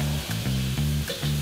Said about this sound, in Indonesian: Pertama, aku tumis bawang putih bersama cumi dan udang.